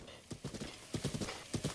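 Horse hooves clip-clop at a gallop in The Legend of Zelda: Breath of the Wild, arriving in quick uneven bursts of three or four thuds, fairly close, with a short whinny-like note among them and no talk.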